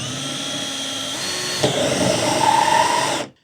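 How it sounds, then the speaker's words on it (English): A power drill runs continuously with a loud, steady whine, its pitch shifting slightly partway through as the bit bites in, then stops abruptly. "And when you do drill through this,"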